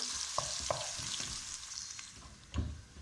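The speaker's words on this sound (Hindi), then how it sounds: "और इसके अंदर हमने ये अदरक लहसुन डाल ली है। इसको हम फ्राई करेंगे।" Crushed ginger and garlic fry in a pan, a soft continuous sizzle broken by a few light spoon scrapes and taps, with a slightly stronger stir near the end, close by and without talk.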